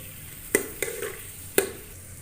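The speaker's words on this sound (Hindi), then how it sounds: "तो प्याज़ों को हम लोग ब्राउन करेंगे" Onions frying in a pan for an aloo, gajar, matar and kaddu dish, with a few sharp stirring clinks and scrapes over a soft steady sizzle, close by.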